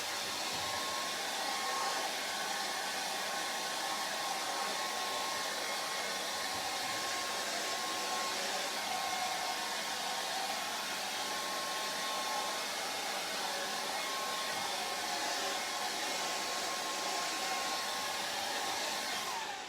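A hair dryer blows steadily on wet acrylic paint for a palette-knife lake scene, a continuous loud whooshing hum with a faint whine that stays constant throughout, with no talking.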